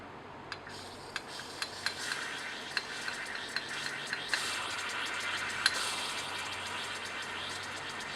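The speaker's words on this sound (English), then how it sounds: "now we'll add a small amount of zinc powder to the mixture" Zinc powder tipped into a concentrated hydrochloric acid mixture in lab glassware: a run of light, close taps and scrapes about every half second over a soft, steady hiss, with no voices.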